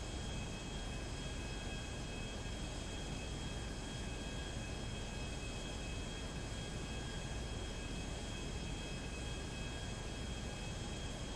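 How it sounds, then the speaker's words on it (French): An airplane with a faulty, tampered engine in the video game GTA, giving a steady, even droning rumble with a hiss that holds unchanged throughout. "il y avait un problème dans le moteur de l'avion"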